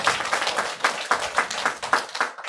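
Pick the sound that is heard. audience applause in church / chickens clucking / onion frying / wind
audience applause in church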